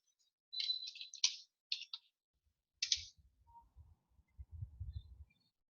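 A computer mouse clicks a few times, short, crisp taps in quick clusters, close and fairly quiet, followed by a soft low rustle.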